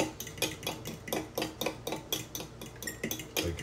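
A whisk beats eggs for egg fried rice in a bowl, clattering in fast, regular strokes, close and loud with a steady rhythm and no talking.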